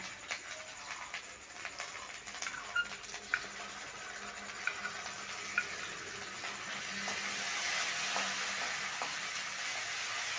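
Mustard paste and poppy seed paste frying in a pan, giving a soft, steady sizzle with small clicks and stirring scrapes that grows denser and louder toward the end.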